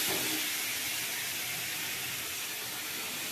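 Onion and ground spices frying in a pan for a fish curry, a steady, dense hiss of sizzling oil running loud and unbroken throughout.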